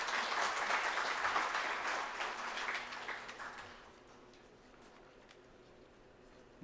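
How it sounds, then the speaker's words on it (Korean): Audience applause at a Korean public solidarity fund annual report event, a dense wash of clapping for about four seconds that then fades out, leaving a quiet room. "박수 한번 서로 보내겠습니다"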